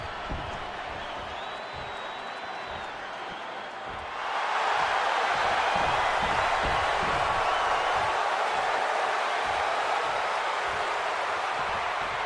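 A capacity wrestling arena crowd in WWE 2K26 for CM Punk versus Seth Rollins, a low murmur that suddenly erupts into a loud, sustained roar of cheering halfway through and stays at full volume.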